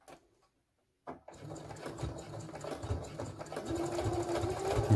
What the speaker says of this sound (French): Kevin va coudre les anses.